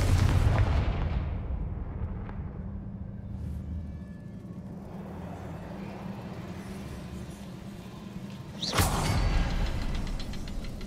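A Confringo blasting spell in the video game Hogwarts Legacy sets off a low rumbling boom, followed by a quieter stretch and a second sharp blast near the end.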